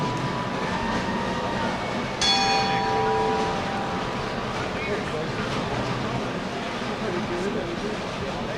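A bell rings to start a bowling competition at the 2015 USBC Open tournament, a single bright struck tone that lingers and fades over a steady hum of a busy bowling center.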